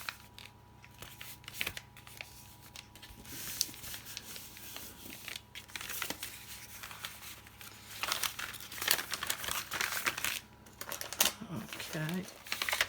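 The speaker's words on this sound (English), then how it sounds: "So I'm going to fold that one up and then fold it in half" Paper sheets for a journal signature are folded and creased, with close crinkling, rustling and soft sliding swipes that come in irregular bursts, while a person talks quietly at times.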